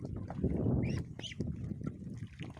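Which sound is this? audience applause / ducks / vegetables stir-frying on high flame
ducks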